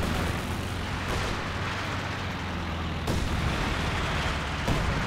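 Heavy mortar and artillery fire rumbles through a Company of Heroes 2 battle, a dense steady roar of distant booms with a few sharper blasts, no talking over it.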